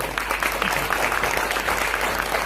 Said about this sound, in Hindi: इतनी तालियां क्यों हो रही हैं?